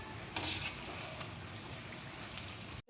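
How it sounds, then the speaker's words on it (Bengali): Palm fruit fritters (taler bora) frying in hot oil over a high flame give a steady, quiet hiss with a few brief crackling bursts, heard alone without talk. "এখন আমি চুলার আঁচটা জোর দিয়ে বড়াগুলো ভেজে নিচ্ছি।"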